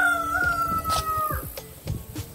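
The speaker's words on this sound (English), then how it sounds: "here's my daughter's chickens" Backyard chickens crow and cluck, a long rooster call followed by shorter clucks and squawks, close and fairly loud with no talking over it.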